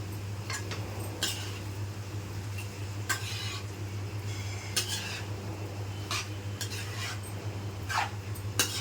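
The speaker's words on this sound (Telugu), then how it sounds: "బంగాళదుంపలు వేసుకొని కలుపుకోవాలి" Potatoes are stirred into an aloo curry in a pan, with repeated scraping and clinking strokes of a spoon against metal over a steady low hum, close and clear.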